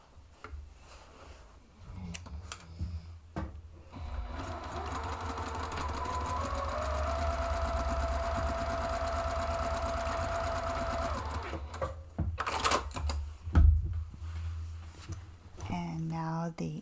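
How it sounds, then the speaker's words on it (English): Sewing machine stitching across the aligned side and base seams of a zippered bag lining. A steady, close mechanical whir runs for several seconds, with a few handling clicks and rustles before and after. "And then you're aligning the side and the base seam and stitching across."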